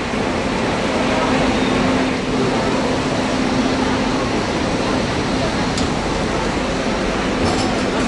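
A train arrives at an Indian railway station, a continuous loud rumble with a low steady hum and platform bustle. Faint clicks of metal come through near the end.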